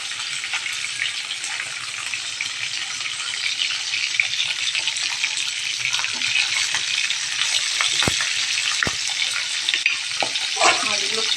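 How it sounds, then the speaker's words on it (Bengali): Sea fish and pond fish fry together in a pan, producing a loud, continuous, crackling sizzle close up with a few soft knocks toward the end. "মাছগুলো ফ্রাই হোক, আমি 5 মিনিটের জন্য ঢেকে দিলাম।"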